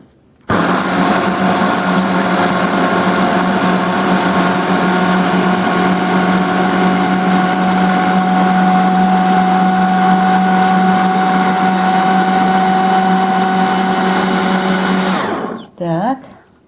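An electric blender chops a food mixture, running loud and steady for about fifteen seconds before stopping abruptly, with no voices over it.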